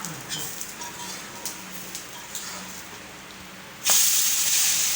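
A dosa of moong dal and poha batter with onion and carrot sizzles softly on a hot pan with small crackles, then bursts into a loud, sustained hiss near the end.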